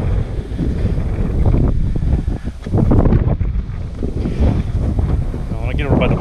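Strong wind buffets the microphone on an exposed hike at Buzzard's Roost in Oklahoma, a steady loud roar with gusty surges throughout.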